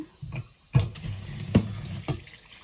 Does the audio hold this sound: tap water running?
yes